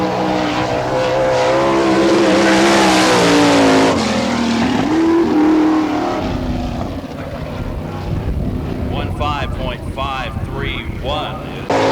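Sprint cars race on a dirt speedway at the All Star Circuit of Champions event in Barberville, Florida, engines roaring loud and sustained, with an announcer talking over the noise and the pitch rising and falling as cars pass.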